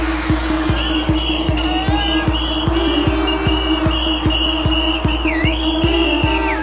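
Party crowd at a hardcore dance event foam party blowing whistles, with sliding shrill tones repeating over a loud pounding four-on-the-floor bass kick and synth music.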